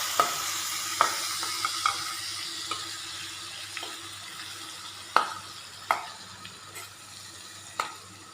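A paste of green chili, ginger and garlic fries in hot oil for an Assamese pickle, a steady soft sizzle broken by occasional stirring knocks and scrapes of a spoon, close up with no talk.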